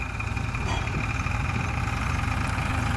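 A tractor engine idles with a low, even rumble on a farm field during chickpea sowing, with a voice speaking over it.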